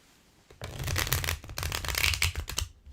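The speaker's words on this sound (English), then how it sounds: "And final shuffle." Tarot cards being shuffled in a run of quick riffling bursts, close and fairly loud, with no voices.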